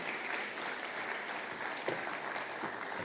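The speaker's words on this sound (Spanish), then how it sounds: "Denle el aplauso, denle el aplauso." Steady applause from a church congregation fills the whole stretch, dense and even, with a few sharper claps standing out near the end.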